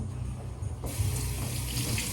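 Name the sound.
water running from a tap while washing hands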